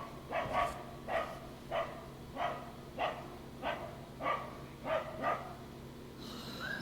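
Dog barking in a steady series of about nine evenly spaced barks, moderately distant and fairly faint over background hum.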